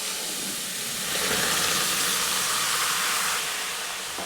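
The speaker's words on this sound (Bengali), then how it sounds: "সম পরিমাণ জল দেওয়ার পর চিনির রসটি একবার ভালো করে ফুটিয়ে নিচ্ছি।" Sugar syrup, sugar mixed with an equal amount of water for Puri khaja, boiling in a pan, giving a steady close bubbling hiss that swells slightly in the middle and carries on alone without talk.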